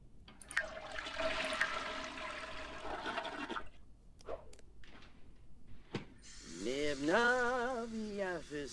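In The Sims 4, a toilet flushes right after a Sim pees, a rushing water gush lasting about three seconds, then clicks and a bit of Simlish chatter.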